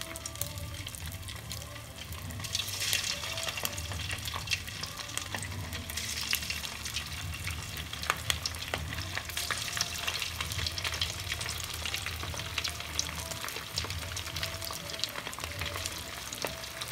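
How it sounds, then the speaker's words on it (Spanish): Kibbeh sizzles in hot oil, a continuous close frying crackle with some stirring, moderately quiet and steady throughout, with no one speaking. "El aceitico caliente para ponerlo a sofreír."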